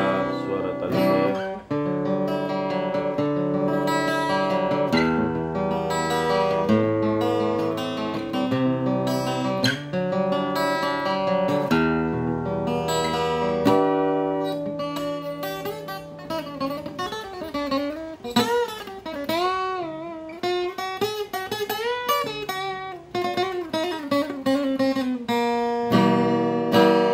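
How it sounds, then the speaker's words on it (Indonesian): An acoustic guitar strung with D'Addario strings plays a sustained run of strummed and picked chords, with bends and melodic lines later on, heard close and fairly loud with no talking. "Ini suara gitar, suara tali saya."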